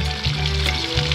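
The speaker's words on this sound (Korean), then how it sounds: "자리돔 튀김 맛있게 익고 있습니다." Whole damselfish, coated in frying batter, deep-frying in hot oil, giving a steady, close, dense sizzle and crackle with no talk.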